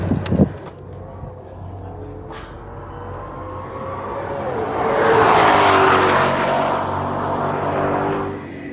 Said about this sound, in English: we are in a 1967 Ford Mustang Shelby GT500